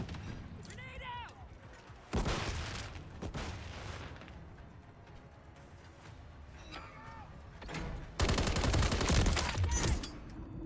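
Call of Duty: Modern Warfare III battle sounds: bursts of heavy gunfire and a loud grenade blast, with radio-style voices talking over the continuous rattle of weapons.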